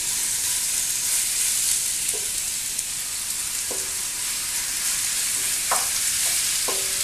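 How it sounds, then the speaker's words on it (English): A steady, loud sizzle of food frying in a hot skillet, with a few soft clinks of a utensil scraping the pan. "so I'm just going to put this in here and get the sizzle"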